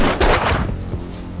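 Pistol fire in the video game Max Payne 2, a dense burst of loud, close gunshots packed together at the start, then fading into rumbling echo and game noise.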